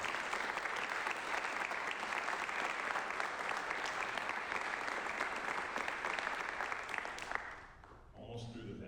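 A ceremony audience at a scholarship celebration applauds honored individuals with steady, dense clapping for about seven seconds before it fades and a voice begins speaking.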